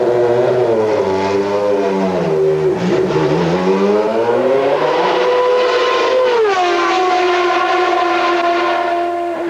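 A Formula One race car running on passive suspension gives a loud, continuous high-pitched engine scream that dips as it slows, then climbs again through rising gear changes, with no talking.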